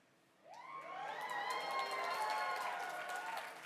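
A theater audience at a convention mainstage cirque show breaks into loud, sustained applause and cheering, the clapping swelling in quickly and holding steady with shouts mixed in.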